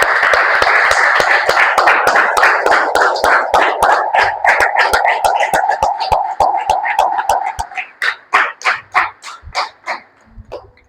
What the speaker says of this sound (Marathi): टाळ्या वाजू येशूसाठी.